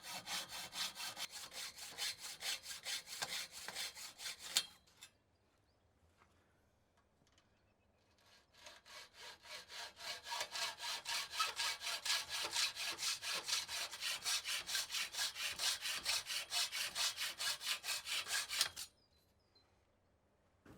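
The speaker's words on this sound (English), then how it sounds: "At the corners, cut the aluminium off at an angle" Aluminium base rail for a polytunnel greenhouse being sawn off at an angle at the corners; two sustained bursts of rapid, rasping saw strokes, close and loud, separated by a short pause.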